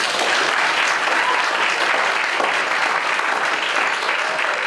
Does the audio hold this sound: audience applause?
yes